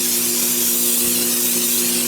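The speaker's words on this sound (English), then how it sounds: "Give your pan a spraying with some canola spray or Pam" Canola cooking spray hisses from an aerosol can into a springform pan for a cheesecake, a steady close-up spray that runs unbroken for about two seconds with no talking.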